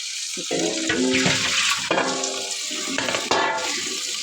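Mustard greens being washed by hand in an open vessel of water for sarson ka saag, with steady sloshing and splashing close by and bursts of pouring water, no talk.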